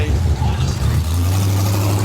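A Ford Capri race car with a new methanol-fuelled engine combination revving close by, a loud deep rumble that drops briefly and then holds a steady drone, with someone talking over it.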